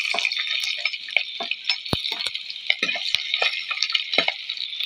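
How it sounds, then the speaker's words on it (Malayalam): Coconut pieces roasting with chopped ginger and garlic in a pan, a bright crackling sizzle with frequent small pops and spatters and a few sharp knocks of stirring, close and moderately loud. "നമ്മുടെ തേങ്ങാക്കൊത്ത് ഏകദേശം മൂത്ത് വരാൻ തുടങ്ങിയിട്ടുണ്ട് ഇനി നമ്മുടെ ഇഞ്ചി വെളുത്തുള്ളി അരിഞ്ഞതും കൂടി ഇട്ട് കൊടുക്കുക"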